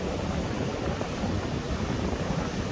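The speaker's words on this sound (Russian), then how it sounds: "Какой же ветер," Strong wind by the sea buffets the microphone in a constant rough rumble, with the wash of waves mixed into the blustery noise.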